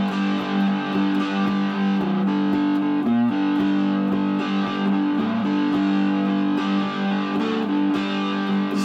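A twangy three-string cigar box guitar in G, played through heavy distortion, strums and picks a gritty, sustained riff, loud and close, with no voices.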